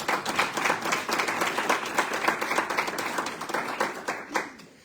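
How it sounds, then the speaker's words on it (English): An audience at a panel discussion claps in a dense, even round of applause, steady and moderately loud before tapering off near the end. "can we just get another round of applause?"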